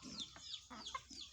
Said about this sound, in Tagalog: Ito may manok tayo na gutom, naghanap ng pagkain.